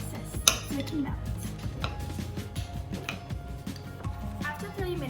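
A utensil stirs melted chocolate chips in a bowl, with scraping, clinking and tapping against the bowl in an irregular rhythm, close and moderately loud, with a sharper clack near the start.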